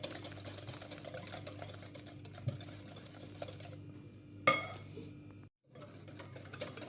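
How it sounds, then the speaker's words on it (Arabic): A manual hand whisk beats eggs and sugar in a bowl for a lemon-flavored cake, making rapid rhythmic clicking and scraping close by, with a short pause and a brief silence near the end. "انا نطلعهم بهذا الخلاط يدوي، واللي عنده الخلاط الكهربائي ديرو ماشي مشكل"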